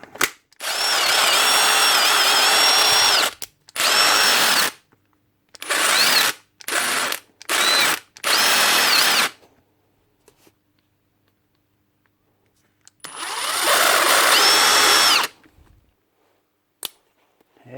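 Milwaukee impact driver with worn bit-holding sleeve, running roughly in several bursts: long rattling runs, then a string of short stop-start pulses, and a final long run after a pause, close and loud, no talk.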